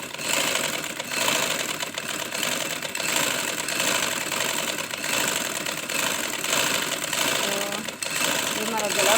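Sewing machine running steadily while stitching a neckline on a garment, a continuous close whirring hum with slight variations in pace, with talk over it.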